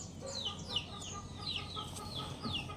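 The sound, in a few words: chicken clucking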